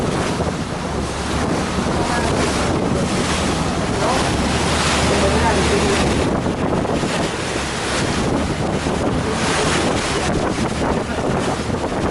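A Chao Phraya express boat on the river in Bangkok, heard as constant loud rushing water and wind noise with a low engine rumble underneath, and faint voices in the mix.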